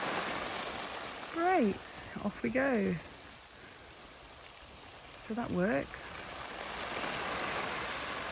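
Steady splashing of a garden fountain in a château garden, continuous broadband water noise running underneath, with a voice speaking briefly over it.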